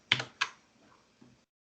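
Two clear keystrokes on a computer keyboard are followed by fainter taps, close and quiet, with no voices.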